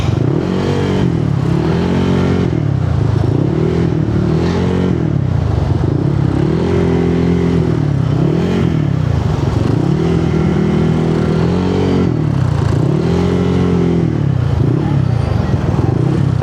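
A Honda PCX160 scooter cruising through road traffic on a ride in Carranglan, Nueva Ecija, its engine droning steadily and loud throughout, with repeated rising and falling revs as it pulls away and slows.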